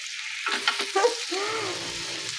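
Onions sizzle in a pan with garlic as the base for ginataang alimasag, crab in coconut milk. A soft, steady frying hiss runs under a few brief clatters of stirring.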